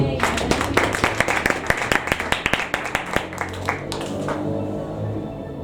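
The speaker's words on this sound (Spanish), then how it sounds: "¿Cuántos le pueden dar un aplauso al Señor?" A congregation in a church claps together, giving distinct sharp claps that are strong at first and taper off. Music plays underneath and there are faint voices in the background.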